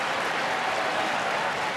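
Audience applause for a Norfolk Terrier at a terrier group dog show, a steady, dense patter of clapping hands held at an even level for the whole stretch, with no voices rising above it.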